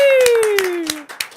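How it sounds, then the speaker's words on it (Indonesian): A few hand claps, about four evenly spaced, in a podcast studio, sounding close but partly under a speaking voice. "Boleh tepuk tangan dulu dong."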